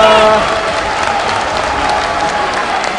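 A loud arena crowd at Evo 2012 roars and applauds during a Super Street Fighter IV Arcade Edition match, a dense, sustained wash of cheering close and unbroken, with a brief tonal game sound at the start.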